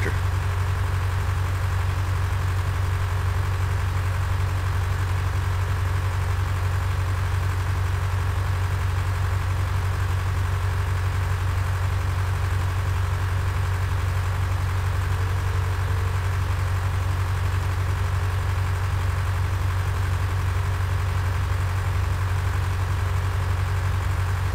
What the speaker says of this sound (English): This is a pretty neat looking tractor.